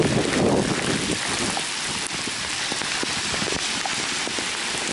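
Heavy rain from Hurricane Sandy pours steadily over downtown Leominster, a dense, continuous hiss of drops with gusty wind buffeting the microphone and no voices.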